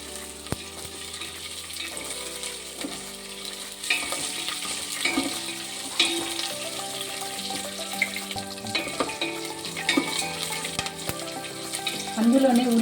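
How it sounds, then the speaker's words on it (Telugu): Cashew nuts and millet fry in a pan for Telugu millet upma, giving a steady sizzle with stirring scrapes throughout, over a continuous tonal background. "ఒకసారి బాగా మిక్స్ చేయండి. జీడిపప్పులను కూడా యాడ్ చేయండి. ఒక్క నిమిషం అలా వేయించండి బాగా."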